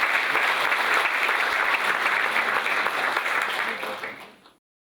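A seminar audience gives a sustained round of applause welcoming a chartered accountant speaker, dense steady clapping from a sizable crowd that holds for about four seconds and then fades out quickly.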